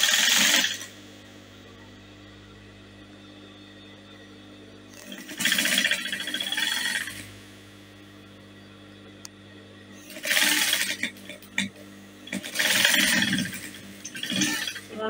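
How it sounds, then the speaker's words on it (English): A sewing machine stitches a dress neckline in several bursts of running separated by quiet pauses, close and moderately loud. "So just stitch it around, maintain the curve on the neckline."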